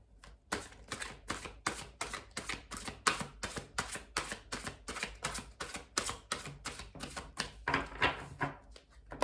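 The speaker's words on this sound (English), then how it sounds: "We'll do one last shuffle" Tarot cards being shuffled close up, a rapid run of crisp riffling snaps in a steady rhythm that carries on throughout, with no talking.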